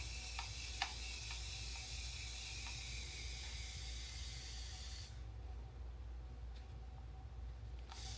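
A hand spray bottle misting water over plants gives a steady, soft, close hiss for about five seconds, then cuts off, with a few faint clicks along the way.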